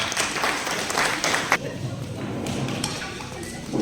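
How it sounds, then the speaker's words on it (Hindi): An audience at an evening cultural program claps to welcome a performer, a dense burst of applause that drops away abruptly midway, leaving quieter room sound and scattered noise. "जोरदार ताली से स्वागत करें।"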